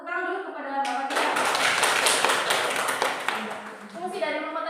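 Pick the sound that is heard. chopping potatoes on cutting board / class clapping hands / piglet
class clapping hands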